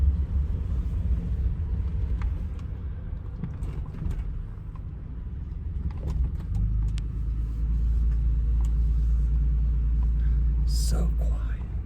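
A Ford EcoBoost engine with turbos runs quietly while the vehicle rolls, a low steady rumble that grows heavier as it continues, under soft speech, with a brief higher whoosh near the end.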